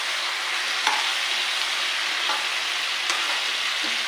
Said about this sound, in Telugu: ఈ ముక్కలు బాగా ఇలా వేయించేసేసి ఒక 5 నిమిషాలు దించి తీసేస్తానండి.